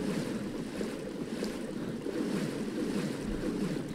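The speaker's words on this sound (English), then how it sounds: "But there's so much water." Deep water surges through a flooded area in the horror game Squidward's Suicide, a continuous low rushing wash with a windy, surf-like roar that holds steady throughout, with no voices.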